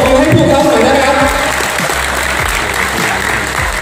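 Audience applause from a crowd at a Thai leadership success event, steady and dense throughout, loud and close, with scattered individual claps standing out.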